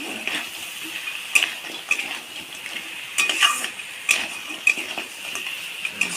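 Sea crab with spices being stirred and sautéed in a pan, a steady low sizzle with repeated sharp scrapes and clinks of a spatula against the pan, close and clear, no talking.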